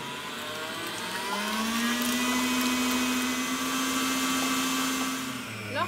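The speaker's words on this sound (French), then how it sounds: "On va fouetter à vitesse maximum tout en y intégrant le sucre semoule." A Cooking Chef stand mixer with a balloon whisk beats meringue at maximum speed as caster sugar is added, a loud, steady motor whine that holds for several seconds and eases off at the end, close and without speech.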